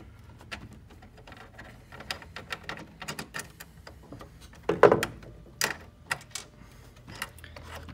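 Phillips head screws being unscrewed from a seat beeper, heard as a scattered series of small, sharp clicks and taps at close range, with a few louder knocks near the middle.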